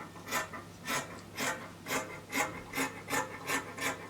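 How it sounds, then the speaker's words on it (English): Scissors or shears cut out a fabric waistband for women's trousers, producing a regular rasping snip roughly every half second, close and moderately quiet, repeated about nine times with no talking. "So I'm cutting out the waistband."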